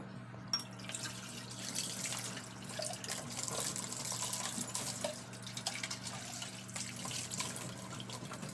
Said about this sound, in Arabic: هحط بس شوية مية كمان